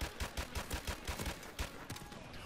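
Rapid automatic gunfire in Modern Warfare Remastered, a dense, loud burst of evenly spaced shots running steadily for a couple of seconds with no voices over it.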